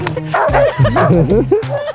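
Sled dogs bark and yip excitedly in the freezing cold, with loud, close, overlapping barks mixed with whines and some voices.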